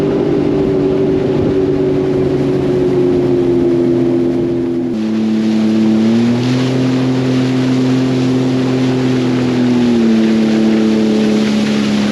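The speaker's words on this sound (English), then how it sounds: "I'll let the vessel go by me with my engine shut off so you can hear it" The CSL Spruceglen freighter passes on the water with a loud, steady low engine drone and rumble that shifts pitch slightly as it goes by, with no talking.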